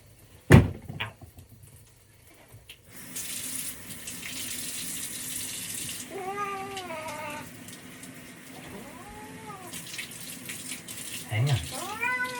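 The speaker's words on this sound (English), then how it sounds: "we're going to rinse you off one more time." Tap water runs steadily into a sink while a cat is rinsed off, with the cat meowing loudly several times over the flow and a brief thump near the start.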